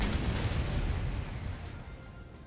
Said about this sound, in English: watching the animations of the artillery crews working on blasting through the walls